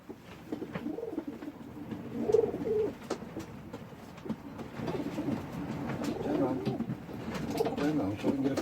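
Frill Stencil pigeons in an allotment loft give soft, low, burbling coos that come and go at close range over a steady rustling background, with a person talking intermittently.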